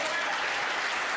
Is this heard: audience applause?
yes